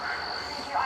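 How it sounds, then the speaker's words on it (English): Crickets chirp steadily as a high, continuous trill in a quiet rural evening near Angus, with faint ambient hum beneath and no talking. "You can literally hear the crickets chirping here."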